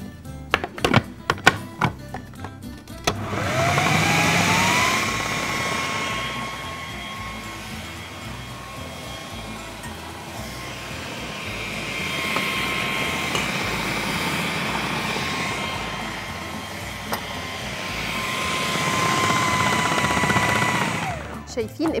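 Electric mixer beating gluten-free dough for Kaiser rolls, a steady loud motor whir with a shifting strained tone as the dough thickens, running almost continuously after a few clunks at the start.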